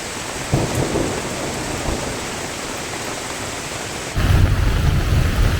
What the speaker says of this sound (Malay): Hujan lebat sekarang.